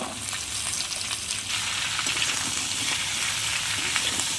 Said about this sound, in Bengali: সবজিটা ভালো করে কষিয়ে নেব